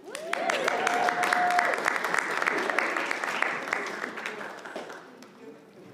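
Audience applause with cheering and a whistle at a business excellence awards ceremony, a full, loud round of clapping that holds for several seconds before thinning and fading out.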